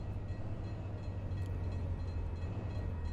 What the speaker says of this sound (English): Oh, we got a train. We have a train.